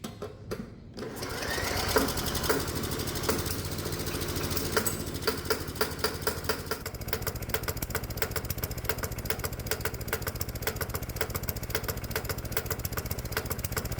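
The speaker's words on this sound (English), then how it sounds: "So as the engine's warming up, I'll adjust the carburetor to get it to run a little bit smoother" A hot bulb semi-diesel lawnmower engine runs while warming up, a rapid, steady mechanical chatter with dense regular knocks that grows more even partway through, loud and close throughout.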